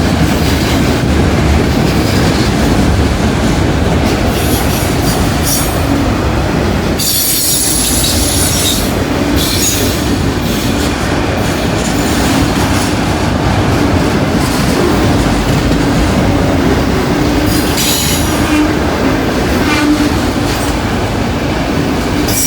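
A freight train with loaded auto racks rumbles past close by in Cowan, Tennessee, with steady clattering wheels and high squealing; a horn blast is not clearly audible in the roar.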